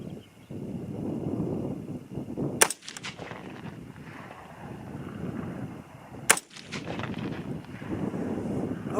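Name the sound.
two rapid rifle shots from 6.5 Grendel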